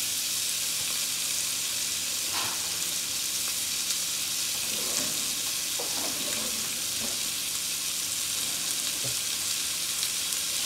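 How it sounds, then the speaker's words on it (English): Pork jaw bacon browning in a pan for collard greens, giving a steady soft sizzle and frying hiss with a few faint stirring scrapes, close and alone without talk. "my pork jaw bacon. I'm just gonna put that in. And what I'm gonna do is just let this get brown."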